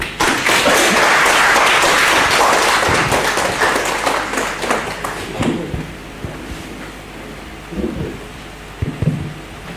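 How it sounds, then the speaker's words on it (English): Loud, dense audience applause at a literary festival session fills the first half, then thins out into scattered claps and light crowd noise. "Round of applause."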